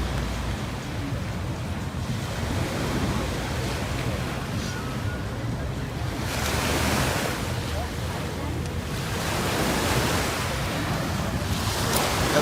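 Ocean surf on a beach in Dubai, a continuous broad wash of waves with gentle swells rising and falling, mixed with wind buffeting the microphone; no voices.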